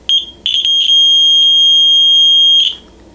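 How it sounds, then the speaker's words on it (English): A small speaker wired into a simple DIY circuit kit gives off sharp, shrill electronic beeps: a few short chirps, then one sustained piercing tone of about two seconds that stops abruptly, loud and alone. "Now all he has to do is touch these two together and the speaker will make sound."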